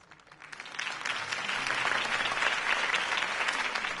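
In the video game Batman: The Telltale Series, a crowd at a campaign speech breaks into applause that swells quickly from scattered claps into steady, sustained clapping.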